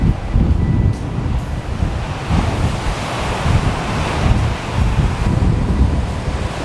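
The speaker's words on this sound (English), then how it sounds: "Check out the waves, guys." Ocean waves break along the Kapalua coast on Maui, a loud continuous roar of surf with heavy wind buffeting the microphone throughout.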